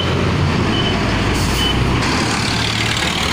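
An AV Bus Lines Partex Grandeza coach, unit 1066, rolling past on a Kawit roadside in the Philippines, its heavy diesel drone loud and continuous throughout with a short air-brake hiss partway through.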